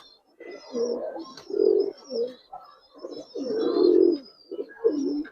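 Pet pigeons in a loft coo in repeated throaty bursts, several soft rolling calls close by with short gaps between them and faint higher chirps over the top.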